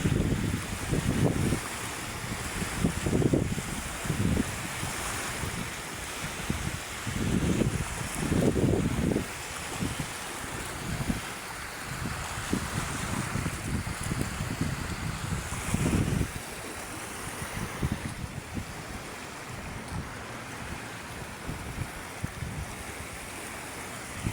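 Waves roll against the shore of Manila Bay as the sea grows rougher, in repeated surging washes with steady wind buffeting the microphone throughout.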